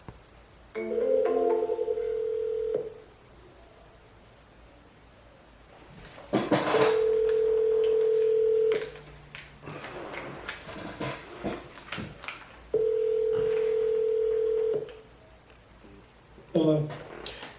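Phone ringback tones while placing an outgoing call to a land seller, three long steady rings separated by silent pauses, clear and close, with a brief bit of sound at the end.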